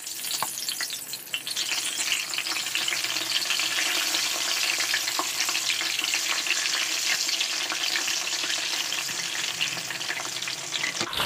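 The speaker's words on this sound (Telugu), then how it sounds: "స్టవ్ని మీడియం ఫ్లేమ్లో పెట్టి ఒక 2 నిమిషాలు వేపుకుందాం" Brinjals (vankaya) frying in medium-hot oil for street-style stuffed brinjal bajji, a steady dense sizzle that holds loud and even throughout, with no one talking.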